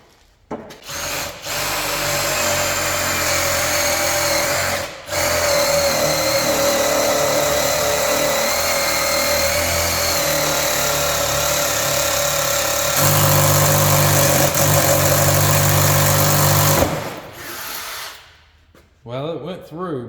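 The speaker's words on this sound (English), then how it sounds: "we're gonna start off with our small 3/16 bit. See if it'll punch through this 1/8 inch steel." Power drill with a 3/16 inch bit boring through 1/8 inch steel, a loud, continuous high-pitched motor whine under load for about sixteen seconds, briefly dipping once before stopping.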